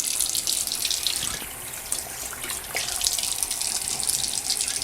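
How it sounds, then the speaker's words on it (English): A faucet runs steadily at a sink as hands are wetted before handwashing, a loud, continuous close rush of water with small splashing shifts and no talk. "you turn on the faucet, you want to wet your hands first."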